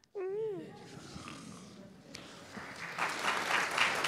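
A voice imitates a tiger snoring during a story, a short drawn-out rasping snore close up, followed by a rising wash of clapping from an audience.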